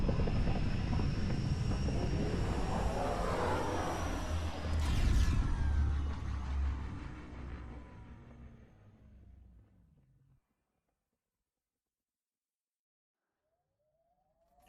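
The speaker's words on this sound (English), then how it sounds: "Descent engine engaged." A shuttle's descent engine in the video game Mass Effect: Andromeda gives a loud, sustained roar that swells around the midpoint, then fades and cuts to silence, with no talking.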